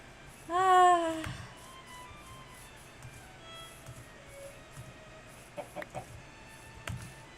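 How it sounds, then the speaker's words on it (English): Chickens cluck in Minecraft: a bright, loud cluck near the start, then softer scattered clucks and small game blips over a steady low background hum. "The chickens are really cute."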